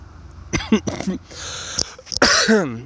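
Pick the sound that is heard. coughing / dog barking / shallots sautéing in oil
coughing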